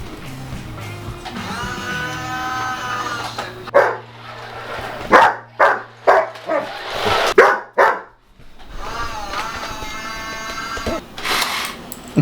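Dog in a screen printing shop barks in a series of sharp, loud bursts while being teased, with people talking around it before and after.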